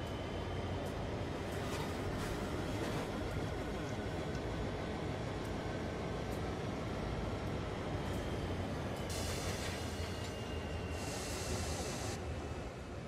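Uncoupled railway wagons rolling freely after a shunting kick in Train Sim World 3, a steady low rumble of wheels on track with rhythmic clicking, continuous and unbroken, with brief hissy bursts near the end.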